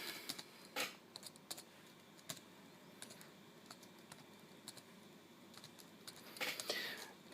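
Quiet, irregular key presses on the keyboard of a Compaq Armada E500 laptop, with scattered soft clicks through the whole stretch and a denser flurry near the end, heard close up with no talk.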